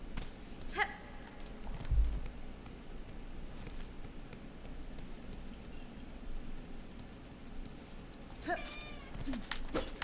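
A cat named Fisher yowls a short meow early on, then cries again more loudly near the end, rising over steady low room noise. No one speaks.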